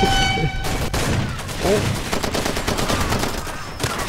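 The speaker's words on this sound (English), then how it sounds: "Do I just start blasting?" Gunfire in the Far Cry video game, with rapid bursts of shots crackling in dense clusters across the few seconds, a loud close volley mixed with game effects and a brief exclamation from a player.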